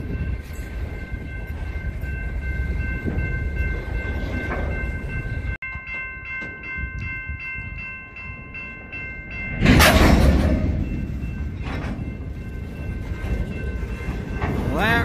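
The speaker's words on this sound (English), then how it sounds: "Empty trash train heading to Columbus to pick up a load." An empty trash freight train on the Ohio Central Railroad rumbles past close by with rattling cars and clanking wheels, and a loud horn blast sounds midway through.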